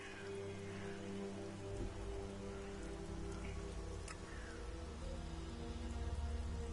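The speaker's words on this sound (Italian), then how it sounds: "Mi sa che piove ancora." Steady rain pattering in ELEX, heard under a low droning music bed, with no voices.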